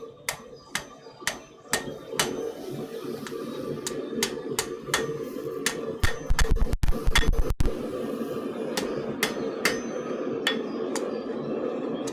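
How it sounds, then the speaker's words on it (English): In a smithy, a hammer forges the taper of a steel spike with sharp, ringing blows at a steady pace, broken midway by a brief cluster of heavier, rapid strikes before the rhythm resumes. "I think I'll still work with the same hammer I've been working with."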